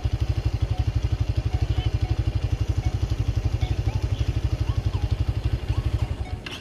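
Raider 150 motorcycle engine idling with a steady, fast single-cylinder putter up close, running evenly for several seconds before it is shut off and dies away at the end.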